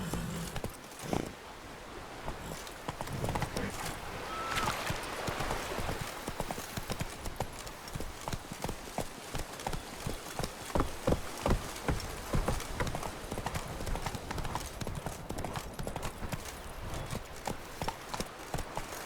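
Horse hooves clip-clop steadily at a riding pace in The Witcher 3, a close, continuous rhythmic clatter running throughout with an occasional faint snort.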